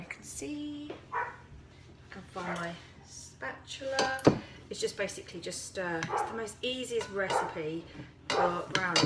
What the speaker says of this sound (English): excuse my dogs barking in the background